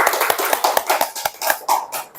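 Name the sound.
classroom clapping hands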